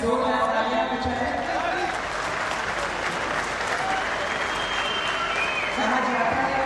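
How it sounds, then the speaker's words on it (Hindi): Loud, sustained applause from a large crowd at an outdoor government ceremony for a Rapid Action Force foundation stone, dense and steady throughout with a faint hum beneath. "आप सभी की जोरदार तालियां बजाएं।"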